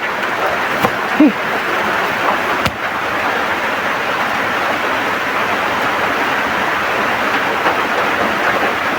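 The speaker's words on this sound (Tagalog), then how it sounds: "Nah, lumakas yung ulan tol." Heavy rain pours steadily as a dense, broadband hiss that holds at a constant loud level, with a couple of brief faint knocks and no voices.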